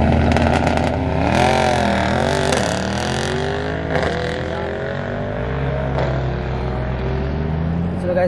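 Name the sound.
Mercedes E63 and GT63 cars racing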